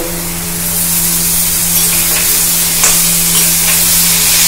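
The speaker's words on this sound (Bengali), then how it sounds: "এই পেস্টটা কিন্তু এতে ঢেলে দেব" Ginger, garlic, coriander, cumin and green chilli paste goes into green banana mash frying in a pan, giving a steady close sizzle with scraping stir strokes and a low hum running underneath.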